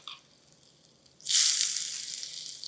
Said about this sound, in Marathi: आता हे सुरसुरीत फोडणी मस्त या डांगरवर.